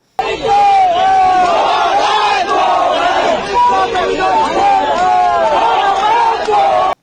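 Crowd in Bihar hooting at reporter Anjana Om Kashyap at the Vidhan Sabha: loud, close, sustained chorus of jeering shouts and whoops in repeated waves, with babbling voices underneath.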